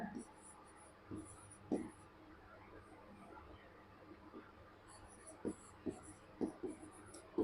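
Chalk or marker scratching on a board during a class lesson, faint scattered strokes and taps over a quiet room hum, with brief high squeaks at intervals.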